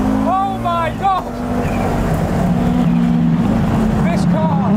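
Audi Quattro S1 Group B rally car driven flat out, its turbo engine a loud continuous roar with boost surging, a driver's voice speaking excitedly over the engine inside the cabin.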